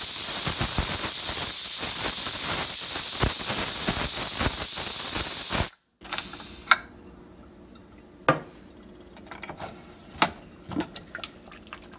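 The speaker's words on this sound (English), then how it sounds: "we're gonna just cover our steamer" Steamer cooking Kashmiri pepper stew meat hisses loudly and steadily for several seconds, then cuts off abruptly, leaving quiet drips and occasional light clinks of a lid and pot.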